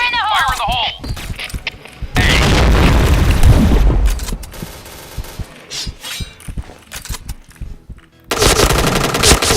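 Video game combat: rapid machine-gun bursts and booming grenade explosions fill the mix loudly and continuously, with a voice shouting over the gunfire.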